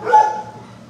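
A single short bark from a shelter dog, close and fairly loud, fading into quiet background noise.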